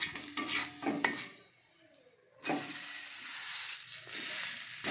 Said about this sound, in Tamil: தோசையை வந்து எண்ணெய் ஊற்றாமல் சுட்டு பார்க்கலாம்